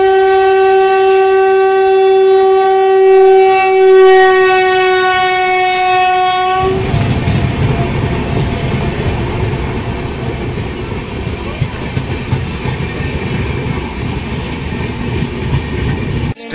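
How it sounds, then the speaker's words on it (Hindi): A train pulling into an evening station in India sounds a loud, sustained horn blast for several seconds, then gives way to a heavy rumble and the clatter of wheels as the carriages roll past close by. "ये इनकी ट्रेन आ चुकी है इधर।"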